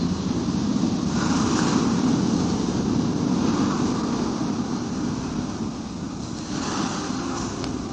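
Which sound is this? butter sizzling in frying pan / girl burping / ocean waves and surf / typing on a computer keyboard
ocean waves and surf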